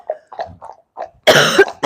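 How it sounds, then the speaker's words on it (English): A few short, dry coughs and throat noises, then one loud harsh cough close to the microphone. "I'm getting over a little bit of a cough and a cold"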